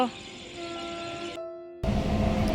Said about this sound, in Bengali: মনে হচ্ছে হর্ন দিচ্ছে